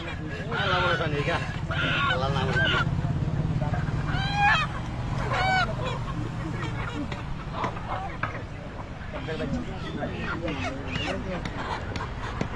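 Hill roosters and native chickens at a poultry market in Khagrachhari give repeated clucks and squawks at close range, mixed with honk-like calls and a steady crowd murmur, while people talk over them.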